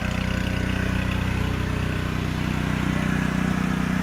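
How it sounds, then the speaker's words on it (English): A generator runs loudly close to its exhaust beside a vehicle, a constant low droning engine hum with steady pulsing and no pauses. "when you're right close to it you can hear that the generator is pretty loud"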